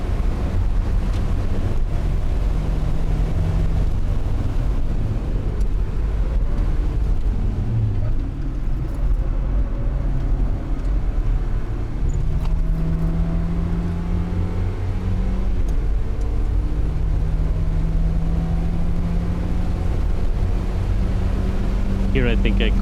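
A Mazda MX-5 on the Nürburgring carries a loud, steady engine drone through a run of curves, its pitch rising and falling with gear changes, under constant wind rush in the cabin.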